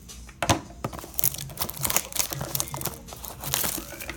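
A 2019 Panini Prizm Draft Picks basketball card blaster box being torn open by hand: close, loud crinkling and ripping of cardboard and plastic wrap in irregular bursts, with no talk.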